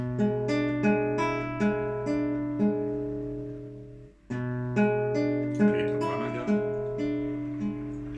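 A classical guitar plays the right-hand arpeggio pattern from Giuliani's Le Papillon, clean plucked notes ringing in a repeating figure, played twice with a short break between, close and clear with no voices.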